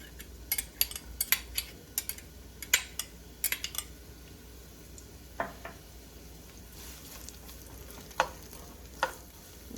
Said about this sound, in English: Just allow it to saute for about 2 minutes.